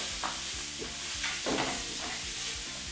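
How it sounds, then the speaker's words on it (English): Mushrooms cooking down in a hot pan for beef stroganoff, a continuous close sizzle with scraping stirring strokes, no voices. "I'm just going to cook down the mushroom."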